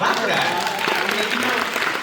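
An audience at ViewerCon breaks into brisk applause, with clapping and cheering layered under a voice speaking over the crowd for the short stretch.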